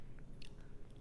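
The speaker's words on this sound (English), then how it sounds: "so I'm gonna taste the sausage that's inside first." A bite into Italian sausage from a beef and sausage lasagna, a brief quiet close-up chew with a couple of soft wet crunches.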